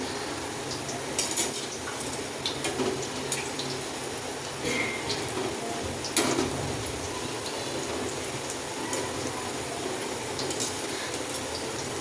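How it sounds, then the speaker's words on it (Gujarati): Onion bhajiya deep-frying in hot oil gives a steady, close, bubbling sizzle with a hiss like rain that runs the whole way through, with no voices. "ગોલ્ડન બ્રાઉન થાય ત્યાં સુધી આપણે ભજીયાને તળવા દઈશું"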